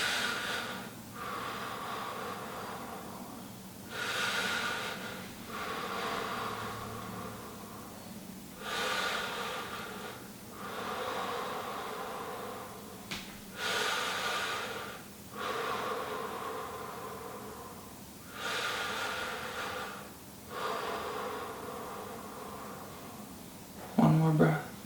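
Slow deep breaths during a seated fascia exercise, long airy inhales and exhales repeating about every five seconds, close and steady, with a brief sound at the very end.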